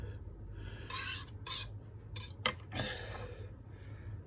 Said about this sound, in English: So I'm going to scrape off the last bottom of that